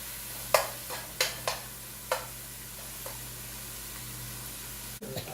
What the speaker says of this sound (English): We'll put the tomatoes. Let it fry for a while.